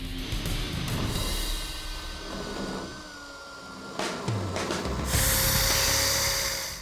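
A power tool cuts steadily through rotted roof panel metal on a 1970 Dodge Challenger, grinding loudly and continuously up close, rising to a harsher, louder whine near the end.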